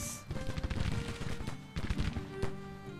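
Musket volleys crackle in a Civil War battle in a strategy video game, a dense rattle of overlapping shots with rumbling battlefield noise.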